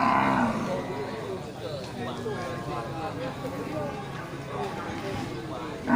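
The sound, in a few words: Aceh bull cattle mooing at a livestock stall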